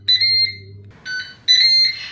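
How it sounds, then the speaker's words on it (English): A Ninja Speedi air fryer signals the end of its cooking cycle with three short, bright electronic beeps, close and clear, separated by brief pauses. "And we've beeped."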